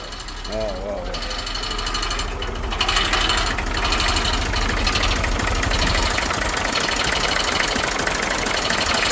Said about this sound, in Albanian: Sa vjetë qarë mund më koll ma ky traktor?